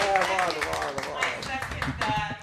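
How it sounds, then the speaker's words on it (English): Podcast hosts clap briefly in a small room, a few scattered handclaps mixed in with their lively talk and laughter. "Hey, applause. Yeah. Yeah, applause."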